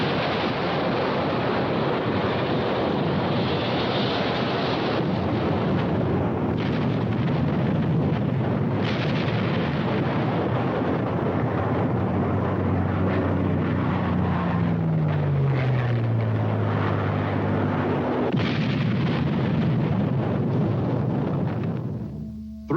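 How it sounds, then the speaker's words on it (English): Archival World War II carrier battle off Santa Cruz as bombs strike the USS Enterprise: a continuous loud roar of aircraft engines and explosions, with a descending engine drone midway and no speech. "3 times bombs smash into the Enterprise."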